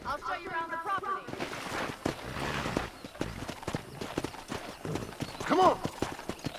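Game horse on a ranch in Red Dead Redemption: brisk hoof clip-clops thud close by, a short whinny breaking through near the end, with voices talking over parts of it.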